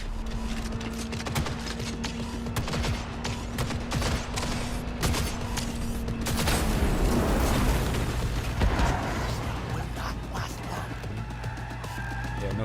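Gunfire in the video game Cyberpunk 2077: dense, rapid bursts of shots layered over booming blasts and a steady engine rumble, loud and continuous throughout, with voices talking over the action.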